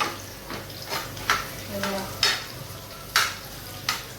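Onions frying in a pan for a fish curry, soft sizzle beneath repeated scraping strokes of a spoon stirring, close by, with a brief faint voice.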